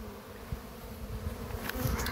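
A low, continuous drone of honeybees moving into a Kenyan top-bar hive, steady and close with small fluctuations, growing slightly busier toward the end.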